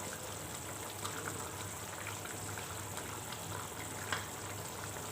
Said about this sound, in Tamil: குழம்பு நல்லா கொதி வந்துருச்சு.